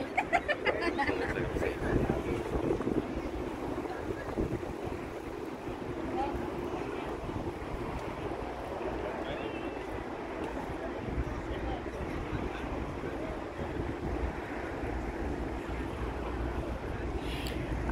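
Steady wind rushes over the water near the Golden Gate Bridge in San Francisco, a broad continuous roar with microphone buffeting and distant surf, while someone talks over it.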